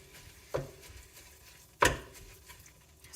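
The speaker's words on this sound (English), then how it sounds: "I do want to keep chopping with this thing because it's kind of fun." A hand food chopper cutting ingredients for shepherd's pie: two sharp, close chopping knocks about a second apart, with faint kitchen clatter between them and no talk.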